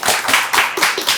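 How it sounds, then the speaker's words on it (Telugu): A handful of people clapping in a brisk, slightly uneven rhythm during an interview, about six sharp close claps in quick succession. "క్లాప్స్ కొట్టండి."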